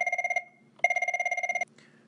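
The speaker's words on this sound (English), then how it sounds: "Then make your telephone ring." A landline telephone rings in two bursts of rapid electronic trilling, the second longer, close and clear in a quiet room with no talk.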